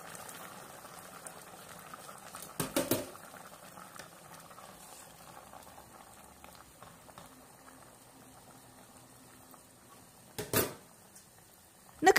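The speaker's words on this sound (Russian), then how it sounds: "Накрываем крышкой и тушим на медленном огне час, а лучше полтора часа" Pork loin braising in a covered pot over low heat, a quiet continuous simmer and bubble with a few louder clinks or bumps near the start, toward the end and at the close.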